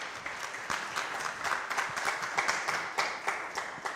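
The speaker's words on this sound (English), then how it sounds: "Another round of applause for Kawan." An audience at a pitch contest claps in a brief round of applause, a dense, lively patter of hands that swells and holds steadily, with no voices over it.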